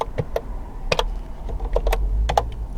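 Keys clacking on the built-in keyboard of a VTech Laser 50 portable computer, a run of separate, close taps in an uneven rhythm over a low hum, with no talking.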